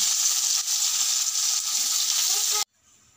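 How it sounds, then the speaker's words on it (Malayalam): Chopped onions sizzle and fry loudly in a pan, a steady close crackle that continues for over two seconds, then cuts off abruptly into near silence. "ഇനി ഇതിക്ക് ഈ അരിഞ്ഞ വെച്ച ഉള്ളിയൊക്കെ ചേർത്ത് വെക്കട്ടെ."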